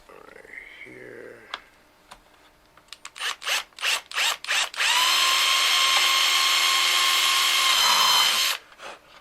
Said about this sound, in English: I'm going to drill them all with the bigger size drill bit